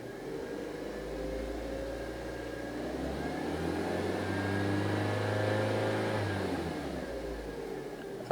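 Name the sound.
car engine revving while tested with automotive scanner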